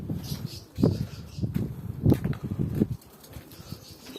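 Ornamental birds in an aviary coo and call in short, repeated bursts at close range, with soft rustling between the calls, and the sound fades quieter toward the end.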